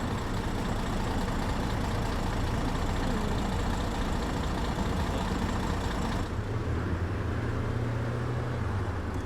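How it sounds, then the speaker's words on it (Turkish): A MAN A23 bus engine in the OMSI 2 simulator idles with a steady low rumble and broad hiss, its tone dropping and settling a little past the midpoint. "Bak şöyle ufak bir motor sesi dinleteyim"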